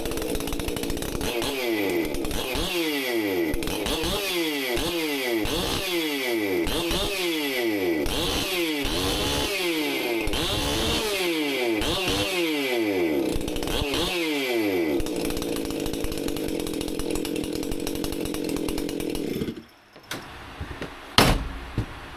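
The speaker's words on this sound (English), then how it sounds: "let's listen to CrazyFeller's twice pipes" Stihl chainsaw fitted with a modified twin-pipe muffler runs loud on a dyno, its engine note rising and falling in about a dozen repeated load sweeps before holding steady, then cutting off near the end.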